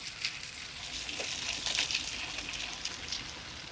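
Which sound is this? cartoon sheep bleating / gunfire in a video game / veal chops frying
veal chops frying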